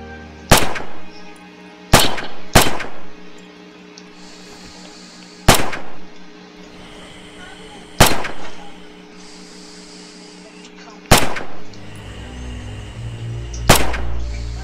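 Rifle shots on a target range in the video game Red Orchestra 2, seven sharp loud cracks spaced unevenly a second or more apart, each with a short echoing tail over a low background hum.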